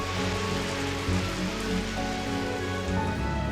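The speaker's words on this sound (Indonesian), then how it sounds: "dan hujan pun turun" Steady rain falls and patters on surfaces, a dense continuous wash of drops that stays even and loud throughout with no voices.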